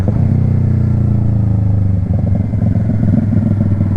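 A 2020 Yamaha R3 motorcycle fitted with an M4 Street Slayer exhaust idles loud and close, a steady deep burble with a slight dip and rougher rumble partway through.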